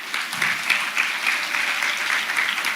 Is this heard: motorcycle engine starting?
no